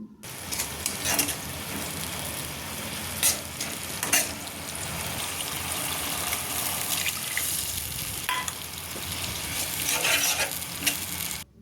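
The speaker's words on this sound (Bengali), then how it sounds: "এবার একটু নাড়াচাড়া করব।" Pabda fish stirred in a pan with salt and a splash of water, a steady sizzle and scraping of the spatula running throughout, with a few louder clatters and bursts of bubbling, close and fairly loud.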